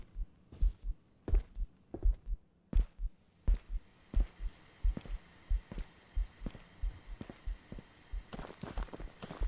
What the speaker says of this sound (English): I could hear my heartbeat pounding in my head then. I can hear it again.